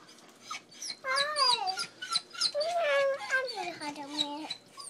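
A puppy whimpers and whines in high, wavering, drawn-out cries, repeated in close succession and loud near the listener, while people talk nearby.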